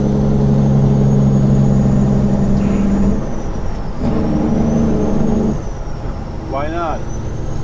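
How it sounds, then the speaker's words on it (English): A Peterbilt 389 glider truck's engine brake gives a loud, deep, rumbling bark in two long bursts near the driver, with engine drone between them. Someone talks inside the cab. "Let's turn on some engine brake."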